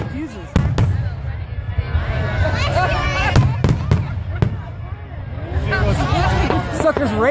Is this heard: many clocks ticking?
no